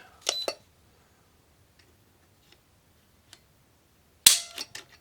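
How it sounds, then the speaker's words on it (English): A Walther PPQ M2 pistol is dry-fired on a trigger gauge, giving two sharp mechanical clicks at the start and another cluster near the end, with faint small ticks between them. "Get that safety depressed, and we pull."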